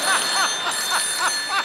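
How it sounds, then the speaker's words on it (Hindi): Telephone ringing on an outgoing call, a repeating warbling ring tone in short evenly spaced bursts, clear and close over a faint steady background hum. "संतोष को फोन लगाया जाए प्लीज"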